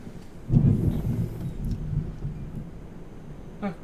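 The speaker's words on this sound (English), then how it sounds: "Thunder is getting louder." Low, sustained thunder rumbling in a video game, swelling loudly near the start and then rolling on steadily at a moderate level for several seconds, with a brief sharper crackle near the end.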